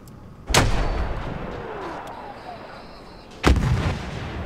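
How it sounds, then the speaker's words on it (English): Two heavy artillery blasts in a Battlefield 1 multiplayer match, loud and booming, each with a long rumbling decay, spaced about three seconds apart over a low ambient battlefield hum. "Wait for the enemy artillery barrage to stop firing."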